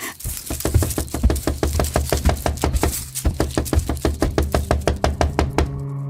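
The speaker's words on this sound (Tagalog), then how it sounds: "May kumakatok sa bintana ko isang gabi" Loud, rapid knocking on a window, used as a drama sound effect: a long run of close, sharp raps in a steady rhythm with a brief pause midway, over a low droning hum.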